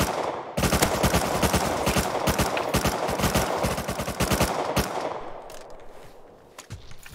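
An LR assault rifle fires in Rust, ripping out rapid, loud, close automatic bursts almost continuously for several seconds before tapering to a few scattered shots.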